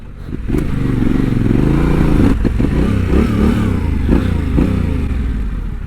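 Yamaha Tenere 700 adventure motorcycle being ridden, its engine droning loud and steady with harmonic pitch sweeps as it revs up and eases off, plus some rattling clatter.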